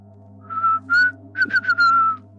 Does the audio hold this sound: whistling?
yes